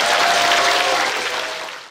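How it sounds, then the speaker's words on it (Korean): Loud, dense clapping from a festival audience at a Korean maritime literature festival opening and awards, a sustained wash of many hands that tapers off at the end. "다시 한번 큰 박수 부탁드립니다."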